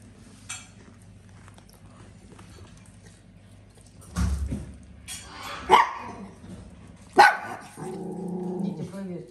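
Several dogs bark and growl in short bursts, a few sharp loud barks standing out over quieter growling and a low background hum, with someone talking in between.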